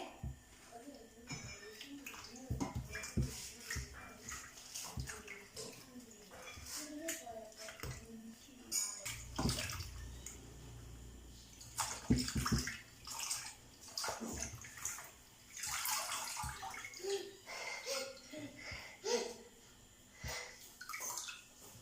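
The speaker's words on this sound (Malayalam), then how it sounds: "നമുക്ക് കൂണൊന്ന് കഴുകി വാരി എടുക്കാവേ." Mushrooms washed by hand in water, quiet splashing and sloshing with intermittent swishes and drips, faint and close, with a voice speaking at times over it.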